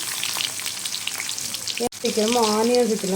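Curry leaves, dried chillies and crushed garlic crackle and sizzle in hot oil, loud and close. After a brief cut, a voice talks over the continuing frying.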